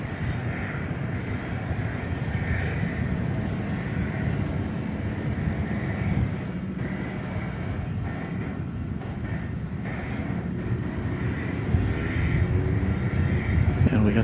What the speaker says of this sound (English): we had a chance to see both of the Qantas flights taking off this evening